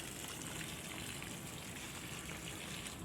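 Water running steadily into a paddy field, a quiet continuous trickle and gush with no speech.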